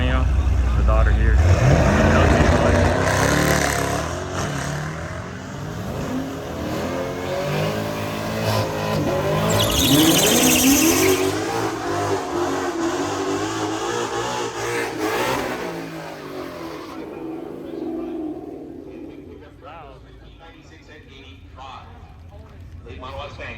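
Late model Mustang and Camaro drag racing at Orlando Speed World, engines revving loudly and accelerating away, the roar swelling twice before fading into the distance while people talk nearby.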